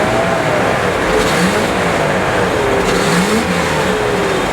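A Range Rover Classic engine revs loud and close, its pitch climbing and falling in smooth waves as the throttle builds and eases, with a constant mechanical roar.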